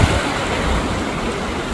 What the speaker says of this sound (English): the waves ain't no joke